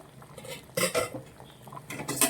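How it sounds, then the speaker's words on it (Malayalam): A spoon stirs a prawn and ash gourd curry in a pot, giving a few close metallic scrapes and clinks in short irregular bursts against quiet gaps. "നമുക്കൊന്ന് ഇളക്കി കൊടുത്ത് നോക്കാം"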